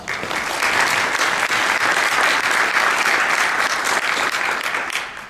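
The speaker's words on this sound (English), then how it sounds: "Please join me in giving them a round of applause." Sustained, loud applause from a large crowd, steady clapping throughout with no pauses.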